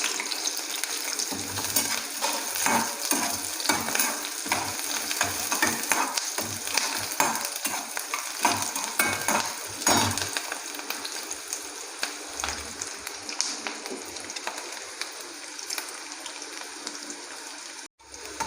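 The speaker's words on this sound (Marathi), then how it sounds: "इथे तेल तापलेलं आहे बऱ्यापैकी आणि इथे आपण इथे हा जो कांदा चिरून घेतलेला होता तो कांदा आपण यामध्ये" Chopped onion frying in well-heated oil, a steady close sizzle with intermittent stirring scrapes and clatter throughout, no voices.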